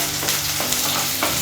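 About ten small shallots are stirred and sauteed in a hot pan for a Tamil fish curry, giving off a steady, close sizzle with soft scraping strokes of the spoon.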